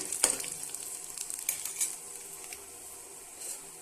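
Mustard seeds and lentils fry in oil, sizzling and crackling softly in a pan, with a few sharp pops early on before settling into a quieter fry.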